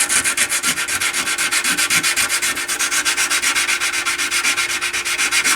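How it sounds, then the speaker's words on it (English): Close, steady rhythmic sanding of a turntable dust cover with 600 grit sandpaper on a Technics SL-B30, quick even back-and-forth strokes of constant loudness with no talking. "So let me sand this down just a little tiny bit."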